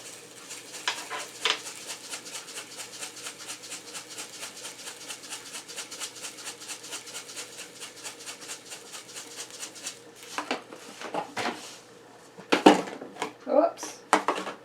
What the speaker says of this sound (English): you're going to start mixing it in, okay? So I have a bowl here, and I'm going to put it all in this one bowl